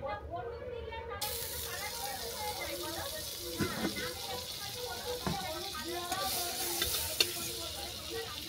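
Mango toast frying in a pan, with a continuous low sizzle and occasional light scrapes and taps from turning. Muted, with no clear talk.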